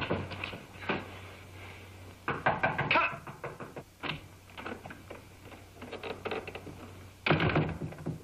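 Knuckles rap on a door in a 1940s film scene: several clusters of sharp, close knocks separated by short pauses, with faint room noise and a low hum underneath.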